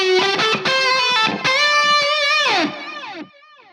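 A distorted electric guitar plays a fast solo phrase with passing tones from an intro solo, its notes sliding and bending before the final note fades out, loud and alone.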